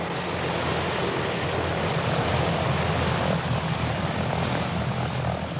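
Inside a 1950s-designed propeller plane in flight on a polar journey, a steady loud engine drone and rushing cabin noise run throughout, with no voices.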